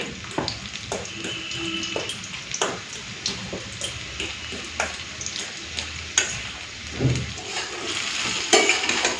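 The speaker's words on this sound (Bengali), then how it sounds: "এই যে কাঁচবাটা ভাজা হয়ে গেছে তুলে নেবো" Raw banana slices fry in a pan, steady sizzling broken by scrapes and clinks of a spoon stirring, fairly close and moderately loud, with no talking.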